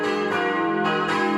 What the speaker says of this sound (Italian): il suono delle campane